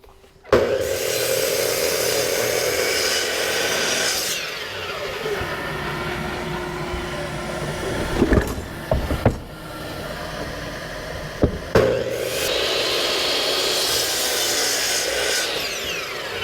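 A power saw cuts a chunk off the wooden neck of a medium rocking horse in a workshop, a loud sustained whine with a couple of sharp clunks midway, then another long cutting run.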